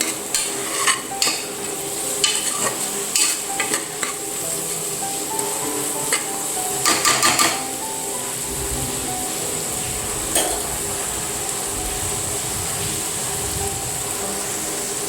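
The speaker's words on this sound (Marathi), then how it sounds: "हे मसाले व्यवस्थित थोडेसे फ्राय होऊ द्यायचे" Spices sizzle steadily in hot oil in a pan for khichdi while a spoon scrapes and stirs them in scattered clinks near the start and again around the middle.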